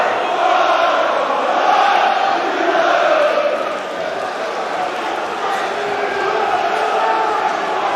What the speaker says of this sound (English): Crowd noise really building up